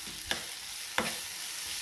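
Green chili and pea thecha is stirred in a pan over a faint steady sizzle, with two brief scraping strokes of the spoon, close and quiet, with no voices.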